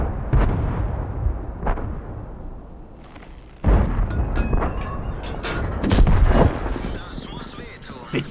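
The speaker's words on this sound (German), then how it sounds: "Die Kanone ist gut." Booming tank cannon shots from a World of Tanks battle with premium tanks, a few loud heavy blasts with rumbling decay, one sharp report standing out midway, with someone talking over the action.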